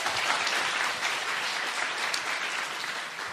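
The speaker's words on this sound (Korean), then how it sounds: "박수 한번 주세요." Audience applause at a live public broadcast recording of a Korean current-affairs talk show, dense and steady clapping from a crowd filling the whole stretch at even loudness, with no talk over it.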